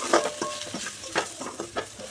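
Mutton masala powder and home-ground spice powder being dry-roasted in a pan, stirred in quick, irregular scrapes over a soft, close sizzle, with no voices.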